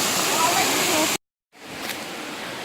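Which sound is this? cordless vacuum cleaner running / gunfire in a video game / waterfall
waterfall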